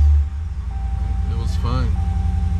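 A Dodge Ram 1500 pickup engine turns over and catches in a loud burst, then settles into a steady, close rumbling idle while someone briefly talks.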